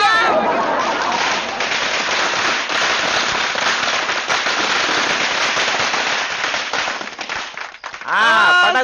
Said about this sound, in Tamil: பட்டாசுலாம் வெடிச்சு வாங்கம்மா வாங்க